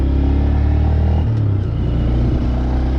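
A Honda Grom motorcycle engine rumbles and drones close by while it is ridden, and its pitch shifts partway through as the rider changes throttle.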